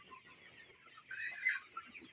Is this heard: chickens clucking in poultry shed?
yes